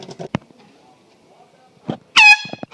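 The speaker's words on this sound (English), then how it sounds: "Air horn." A handheld air horn set off as a scare prank gives one loud, sharp, piercing blast of about a quarter second near the end, with brief bits of talk and thumps before and after.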